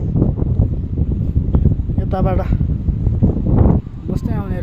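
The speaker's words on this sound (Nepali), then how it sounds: "कडा बतास आउँदो रहेछ एकदम सिरेथो" Strong cold wind at a hilltop temple rushes and rumbles against the microphone throughout, with people talking nearby over it.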